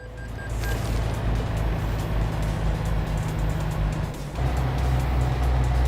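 A heavy truck in Euro Truck Simulator 2 runs with a loud, steady engine roar that swells as it accelerates, with a brief dip near the end before the drone returns.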